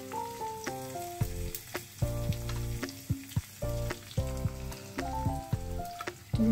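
Garlic frying in hot oil and ghee gives a steady, soft sizzle beneath prominent melodic background music that carries the whole stretch.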